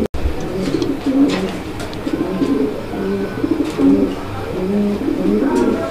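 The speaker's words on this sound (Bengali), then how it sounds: "আর এইদিকে দেখতে পাচ্ছেন আপনারা ডেনিশ কবুতর" Danish pigeons in a breeding loft give repeated low, throaty coos in close, overlapping bursts, with a few soft flutters and no talking.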